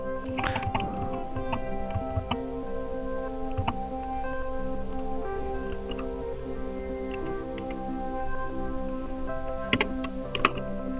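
Typing on a computer keyboard while designing a corporate ID card: rapid, irregular close key clicks in short bursts over a faint steady hum, with no voices.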